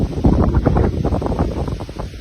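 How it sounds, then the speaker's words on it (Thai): Wind blows outdoors beside a lake, loud gusty rumbling buffets the microphone in uneven surges throughout, with no one speaking. "แต่ลมเย็นมากเลยค่ะ"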